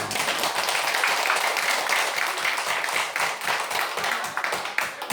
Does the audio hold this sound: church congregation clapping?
yes